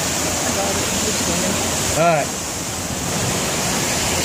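Steady broadband rush of a waterfall pouring onto a river rapids raft ride at Dollywood, loud and continuous with wind-like noise, while a rider speaks briefly partway through.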